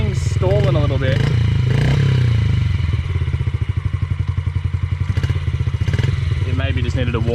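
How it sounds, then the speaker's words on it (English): A Yamaha TTR dirt bike engine idles roughly and unevenly, its loud chugging beat faltering and sputtering as if about to stall, with occasional revs and a voice speaking over it up close. "Okay, so now we've got the TTR. This thing's stalling a little bit."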